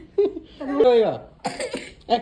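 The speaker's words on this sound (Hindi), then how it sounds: "बुढ़ा खांसी जा रहा है खांसी जा रहा है" An old man coughs in a few hoarse, voiced bursts, with a short cough, a longer rasping one, then two more quick coughs close to the microphone.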